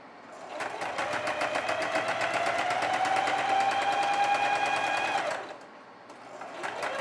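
Sewing machine stitching a faux leather jumper, running steadily and close for about five seconds with a rapid, even needle rhythm, then stopping briefly and starting again at the end.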